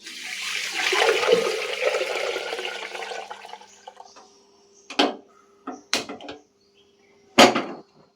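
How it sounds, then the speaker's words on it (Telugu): Water rushes and splashes steadily into a pot of washed rice for a few seconds, then stops, followed by several sharp clanks and knocks. "బియ్యం అయితే కడిగేసుకున్నాను దీంట్లో వాటర్ పోస్తాను"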